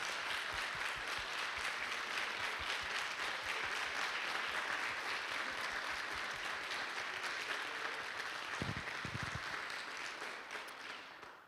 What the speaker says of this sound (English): let's give all of our Support Employees of the Year and Teachers of the Year a big round of applause